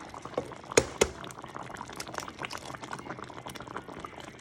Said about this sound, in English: And you just let those eggs cook in there, and then they will be ready to serve